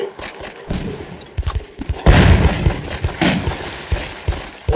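Gunfire in a Roblox house-defense game against monsters, a dense run of loud repeated shots and thuds across the whole stretch, with game noise behind.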